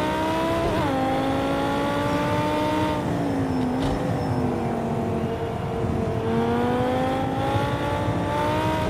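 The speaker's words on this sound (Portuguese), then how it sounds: "Dá pra dar uma aumentada aí pra escutar melhor o som do motor" Race car engine in the Project Cars 2 racing game revving steadily and loudly throughout, pitch rising and falling with gear changes, close and continuous with no talk.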